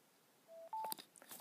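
Geega S204 wireless Bluetooth headphones give a power-on alert of two short rising electronic tones, the second higher and louder, followed by faint handling clicks.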